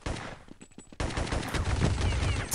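In Counter-Strike, a Mag 10 shotgun fires a few quick close blasts, followed by a loud, sustained stretch of gunfire and clatter that fills the rest of the moment.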